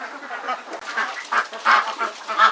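Ducks on a Bangladeshi duck farm call in a rapid run of nasal quacks and squawks, close by and fairly loud, several overlapping in short bursts.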